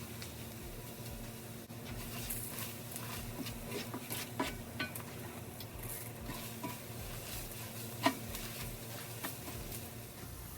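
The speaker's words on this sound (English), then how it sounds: "We're gonna let that cook, checking it for about 5 minutes so it can cook the flour taste off of the flour." Flour cooks in a pan with oil for a cube steak gravy, with a soft steady sizzle and repeated scraping stirs of a utensil against the pan, plus occasional light clinks.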